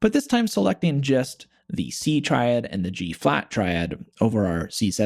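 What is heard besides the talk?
None of the usual background noises is heard.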